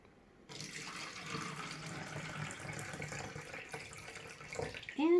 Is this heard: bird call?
no